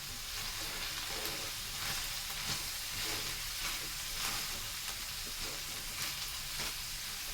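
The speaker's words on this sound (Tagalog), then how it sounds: "Igisa ko lang siya ng saglit kasi ayaw ko yung overcook kasi lulutuin ko din naman mamaya" Lumpia filling sautés in a pan with a steady, close hiss and crackle of frying, broken by soft rhythmic scrapes of stirring throughout.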